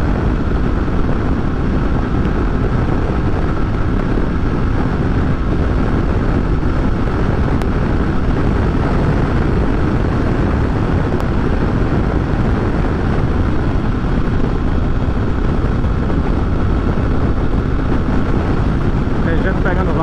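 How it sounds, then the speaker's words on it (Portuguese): A Honda XRE300 motorcycle carrying a passenger rides through Recife traffic, its engine a loud, steady, unbroken drone mixed with wind roar for twenty seconds, while a rider talks over it. "Moto não desenvolve."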